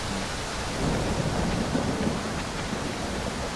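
Steady rain hisses over a rolling, low rumble of thunder in the fantasy role-playing game Realms of Arkania: Star Trail, a dense, even wash of storm noise with no voices.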